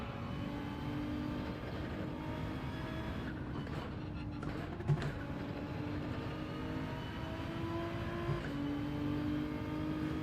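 A BMW racing car engine in a racing video game drones steadily and continuously, its pitch gliding up and down through gear changes, with a brief louder blip near the middle.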